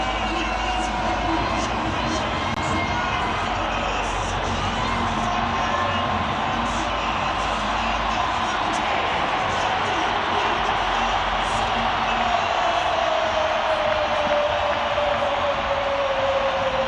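A huge rugby stadium crowd at the Stormers v Munster grand final roars in a dense, continuous wall of cheering and noise that holds steady and loud throughout, with no distinct voices standing out.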